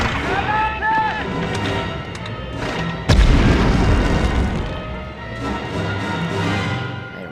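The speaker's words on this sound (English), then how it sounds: "Throw us a nice grenade in here." A grenade blast in the PS1 game Medal of Honor. One sudden booming explosion sounds midway through the clip and its rumble trails off, with game music and effects around it.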